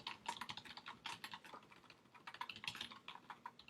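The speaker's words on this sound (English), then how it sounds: "I can type" Rapid typing on a computer keyboard, a steady run of quick, fairly quiet keystrokes with no pauses, and no talking.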